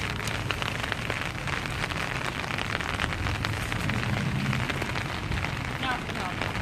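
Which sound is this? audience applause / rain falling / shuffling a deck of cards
rain falling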